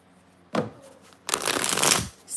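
Tarot cards shuffled close up: a brief riffle, then a longer, dense flutter of cards snapping together, loud and crisp with no talking.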